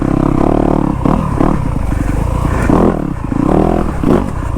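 A Yamaha YZ250F dirt bike engine, loud and close, catches and revs in repeated rising bursts with clattery mechanical noise, running on without any talking.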